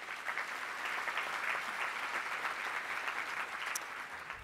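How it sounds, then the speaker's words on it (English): Steady applause from an awards-broadcast audience honoring nominees, a dense even wash of clapping that holds for several seconds at a moderate, somewhat distant level. "if give them one more round of applause"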